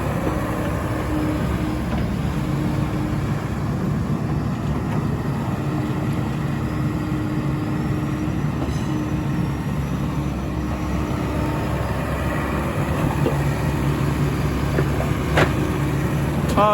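A SANY SY75C excavator with a non-turbo Isuzu 4JJ engine runs steadily, giving a loud, continuous low engine drone with no breaks and no talk.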